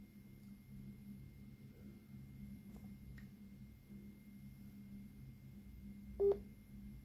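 Telephone dialing tones from a phone being called, a brief tonal burst late in an otherwise quiet stretch with low background hum and no talk.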